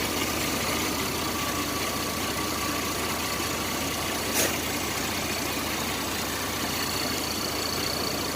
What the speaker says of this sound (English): There it goes, now it's idling better